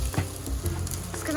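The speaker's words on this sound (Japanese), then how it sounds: "ケチャップを炒めるという状態ですね" Ketchup fries in a pan for ketchup rice, a brief, steady close sizzle with small popping patters and a light stirring sound, heard alone.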